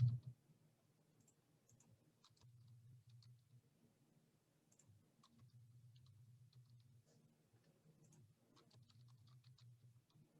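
Computer keyboard typing comes through as light, scattered key clicks in short bursts, faint and close, with quiet gaps between runs and no talking.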